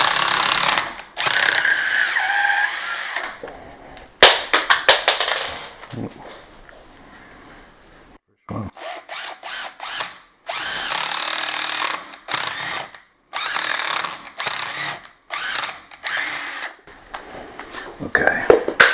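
A power drill bores into concrete in repeated loud bursts with short pauses between them, close by, with brief talk in the gaps.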